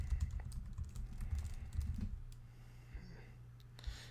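Fingers type on a computer keyboard during website building, with rapid soft key clicks in quick bursts for a few seconds, fairly quiet and close, with no talking.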